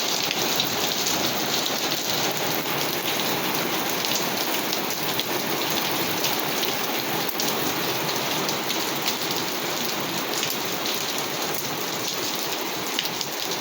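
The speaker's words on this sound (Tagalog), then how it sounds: "yelo po ang ulan ngayon mga kapatid" Small round hailstones falling steadily in Riyadh, a dense continuous patter and hiss of ice striking surfaces, loud and unbroken throughout with no voices.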